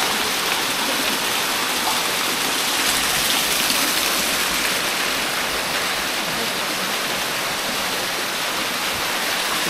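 Water rushes steadily inside Lumiang Cave in Sagada, a dense, unbroken roar of a flowing stream close by, with no voices over it.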